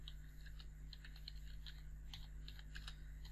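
Faint, quick clicking of keys being typed on a computer keyboard in uneven little clusters over a low steady room hum, with no talking.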